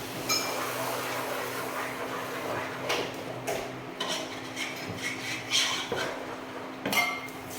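A pan of sweet 7 cup cake mixture is stirred with a utensil, giving irregular scraping and clinking against the metal over a steady background hum.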